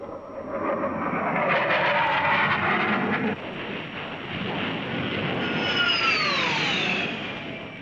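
An F-14 Tomcat jet fighter flying air combat maneuvers, a loud roaring rush that swells and then shifts into a whining, falling engine tone as it passes, steady and close, without speech.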